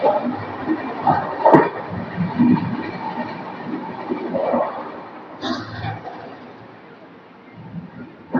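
An Uday Express double-decker air-conditioned train rumbles and rattles around the listener while moving, with clanks and jolts over a steady low roar, muffled voices faint in the background.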